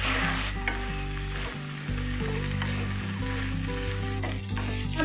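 Rice frying in a pot with soaked raisins and cashews, a steady close sizzle with stirring scrapes over an even crackle, alone without voices, with a lower steady hum running underneath.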